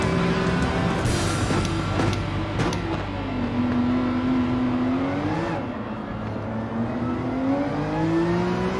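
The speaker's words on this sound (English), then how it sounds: "I gave it a little bit more gas just to kind of kick my car in front of them a little bit." A Porsche 911 RSR in Gran Turismo 7 at Suzuka in the rain, its engine revving and climbing steadily in pitch as it accelerates, loud and continuous with a whirring drivetrain whine and no talk over it.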